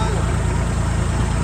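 Tractor engine running and idling steadily close by, a continuous low rumble with no breaks.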